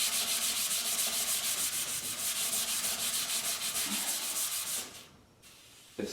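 A well-used, slightly gritty foam sanding pad rubs back and forth across a finished wood cabinet shelf for a kitchen, a steady close scratchy swishing for about five seconds before it stops and the room goes quiet.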